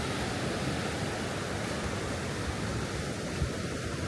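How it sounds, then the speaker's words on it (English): Ocean surf rolls onto a beach at Ban Krut, Thailand, as a steady, dense roar of breaking waves with no voices over it. "The waves are still there"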